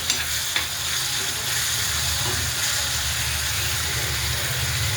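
Vegetables and tomato sauté in hot oil with a steady, close sizzle and hiss, joined by low stirring rumbles and a couple of faint utensil knocks.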